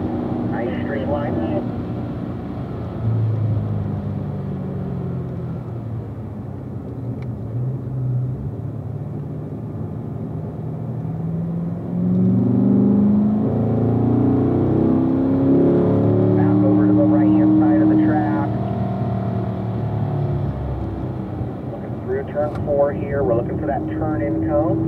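A Corvette engine rumbles steadily on a race track at a Corvette driving school, rising in a drawn-out surge midway and then settling, with an instructor talking over it throughout.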